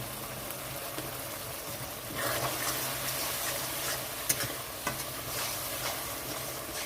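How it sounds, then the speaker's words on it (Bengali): Salt, turmeric and Kashmiri chilli powder sautéed in oil in a pan for a tilapia fish curry, making a constant close sizzle with scraping stirs and a few sharper clinks of the spoon. "মশলাটা ভালো করে কষিয়ে নিতে হবে"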